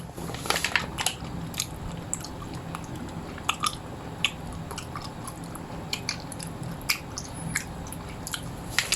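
Jelly candy chewed close to the mic, with steady wet squishes, soft crunches and clicking bites recurring throughout, alone with no talking.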